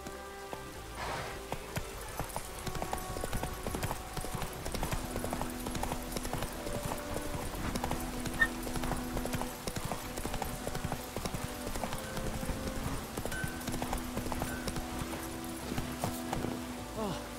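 Hooves of the horse Roach clip-clop in a fast, steady gallop in The Witcher 3 on PS5, a constant rhythmic pounding under rain and game music, with someone talking over it.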